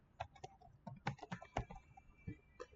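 Quiet, close typing on a computer keyboard, an irregular burst of a dozen or so keystrokes with brief pauses, no voices.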